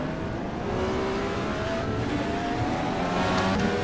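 DW-12 IndyCar in the rFactor 2 racing game at Mid-Ohio, its engine a steady loud high-pitched drone that climbs slightly in pitch, alone without talk.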